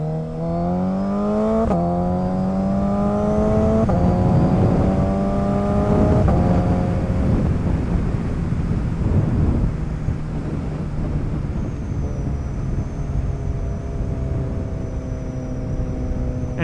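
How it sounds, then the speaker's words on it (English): A motorcycle accelerating hard through its gears on Stantonburg Road, a country road, engine note climbing then dropping at each of several shifts, loud and close with steady wind rush over the microphone. "you can actually accelerate through your gears"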